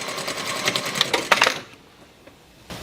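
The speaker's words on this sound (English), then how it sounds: "Now I can pivot and I can finish sewing the rest of the side seam and end with the back stitch." Domestic sewing machine running fast along a dress side seam, a steady dense whir of needle strokes for about a second and a half, then stopping abruptly into near quiet with one faint click.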